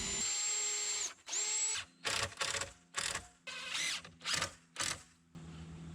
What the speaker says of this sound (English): I pre-drilled from underneath and attached them with screws.